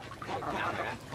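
A duck quacks faintly on a small Vietnamese farm where about twenty are raised, a short soft burst of calls with some background murmur.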